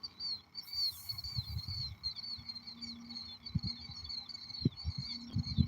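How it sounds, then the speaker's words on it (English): Small white gull-like birds with gray backs call over an inland reservoir, their thin, repeated chirping cries running steadily at moderate distance above low rumbling and scattered knocks. "what's them little white collared birds y'all flies over water?"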